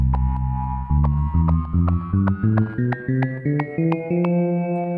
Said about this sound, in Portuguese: botar no som do piano para que a gente possa compreender